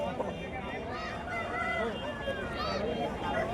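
A rooster for sale at the Pebberu poultry market gives faint, brief calls that are nearly buried under dense crowd chatter and nearby voices.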